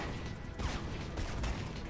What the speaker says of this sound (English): So many gunshots.